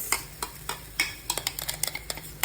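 Chicken momo filling, blended ingredients in oil, stirred in a pan: a series of sharp utensil clacks and scrapes against the pan, irregular and close, over a faint frying hiss with no talking.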